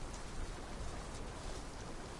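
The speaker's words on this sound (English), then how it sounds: "Buster, is it raining?" Steady rainfall in the video game Where Winds Meet, a dense, even hiss of drops pouring down without pause, fairly loud and close, with no voices over it.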